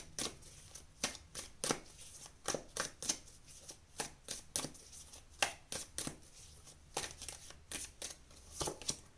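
Tarot cards being shuffled and drawn, a rapid run of crisp riffling bursts and flicks in uneven rhythm, close and fairly quiet with no talking.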